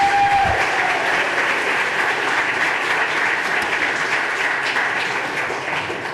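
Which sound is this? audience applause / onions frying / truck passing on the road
audience applause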